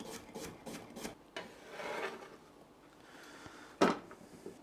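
A knife slices a cucumber, giving a few quick close rasping cuts at the start followed by a softer scrape and one sharp knock on the board.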